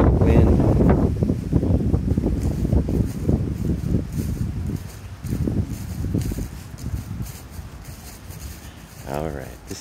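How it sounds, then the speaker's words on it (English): Strong wind buffets the microphone on a hike in Maui, a heavy rumbling roar that gusts in uneven waves, strongest at the start and easing later, with a person talking beneath it. "Pardon all the wind."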